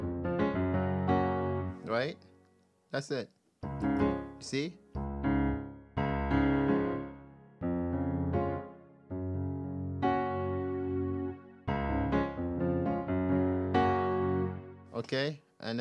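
Keyboard plays a Haitian rhythm with no drum loop, choppy chords in short bursts separated by gaps, with brief talking in between.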